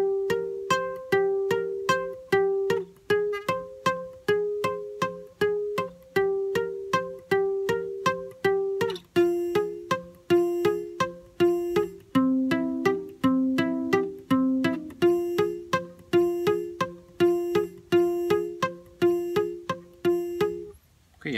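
A guitar plays the intro phrase of a song as a steady run of plucked notes. Rhythmic arpeggiated patterns repeat over about twenty seconds, close and clear, with no voices.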